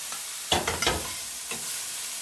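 Corn being stirred into vegetable fried rice in a hot skillet. A steady sizzle runs throughout, with a few close scraping strokes clustered near the start and one more later, and no talk.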